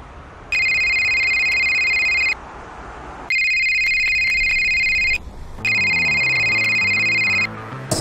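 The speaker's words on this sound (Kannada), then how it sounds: "ಸರ್ PM ಅವ್ರು ಫೋನ್ ಮಾಡಿದ್ದಾರೆ." A telephone rings in three long, steady bursts separated by short pauses, loud and close, with a faint low murmur underneath.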